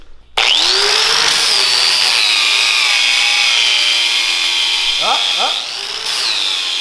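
An angle grinder whines loudly and steadily in a garage while welding sparks fly, the pitch dipping slightly as it bites, with a brief spoken word near the start and a couple of short squeaks near the end.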